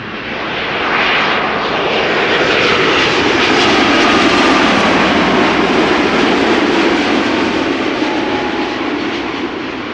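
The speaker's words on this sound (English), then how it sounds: "KLM 787-10 arriving from Cartagena." KLM Boeing 787-10 arriving at Amsterdam Schiphol Airport from Cartagena, its jet engines a loud, steady roar that swells in and holds throughout with no talk.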